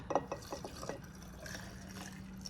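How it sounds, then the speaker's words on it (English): Water poured into a glass jar packed with cucumbers, peppercorns and crushed red pepper for home-fermented pickles, a brief close trickle with small splashes and drips that settles into a quiet gurgling fill. "Then you are to fill this up"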